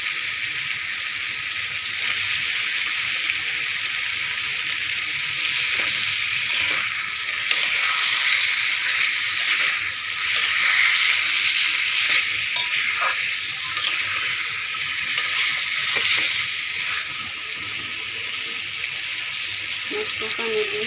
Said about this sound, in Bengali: মশলা তেল ছেড়ে দিয়েছে, এখন মাছগুলো দিয়ে কষাবো।